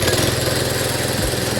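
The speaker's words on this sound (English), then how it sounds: "I present to you the first test runs on the newly upgraded scooter." A newly upgraded scooter engine with a fresh spark plug runs on a test, giving a steady, close, loud buzzing drone with a fast, even beat and no voices.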